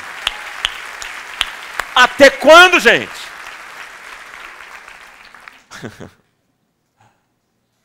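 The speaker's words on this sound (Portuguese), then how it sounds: "Já que vocês não aplaudem, eu vou aplaudir." A preacher claps his hands during a sermon, a series of sharp, close, separate claps over a faint room hum, with his voice speaking briefly between them before silence.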